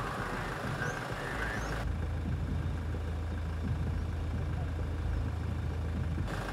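A truck engine runs at a low, steady idle throughout, moderately close, with no speech.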